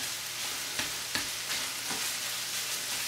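Sausage browning in a pan for sausage gravy sizzles in a steady, close frying hiss, with a few soft clicks of stirring and no voices.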